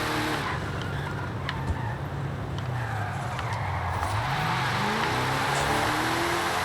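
A 1964 Chevrolet Impala Super Sport with its 409 engine, drift-tuned and on stock tires in a racing video game, drones steadily with shifting revs and tire squeals as it slides, loud and continuous throughout.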